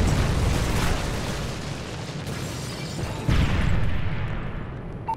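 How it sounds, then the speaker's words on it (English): A Predator missile strike in Modern Warfare 3 with a broad, rumbling explosion roar that swells, sustains, then surges again before tapering off, loud and close with no talk. "Friendly Predator missile inbound."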